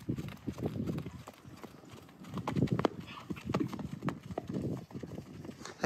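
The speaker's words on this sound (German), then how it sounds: "Ich reite mal eben auch direkt nochmal daher." Hooves of a ridden horse beat out a steady, rhythmic clip-clop on the ground, fairly close, with a few faint voices in the background.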